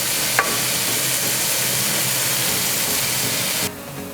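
Onions and carrots sizzling in a pan as a little water is added, a steady loud hiss and crackle of frying and steam that runs continuously, with a brief clink near the start and the sizzle dropping off at the end.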